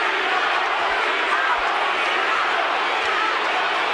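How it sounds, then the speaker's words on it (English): A boxing crowd at Mandalay Bay roars and shouts in a steady, dense wall of noise during the 2007 Hopkins v Wright Ring title fight. "And the crowd once again shout"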